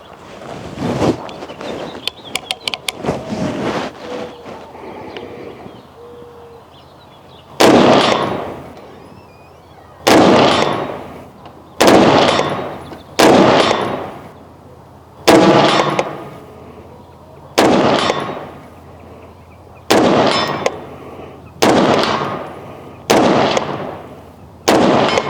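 An FN SCAR rifle fires at a steel target at 100 yards: a quick string of shots at first, then about ten single, evenly spaced loud cracks, each ringing out and decaying before the next.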